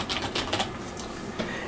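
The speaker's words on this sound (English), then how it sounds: "I just come in here and just start typing." Fast typing on a computer keyboard while entering text for church video announcements, a quick run of light clicky keystrokes in bursts, close and clear with no talking.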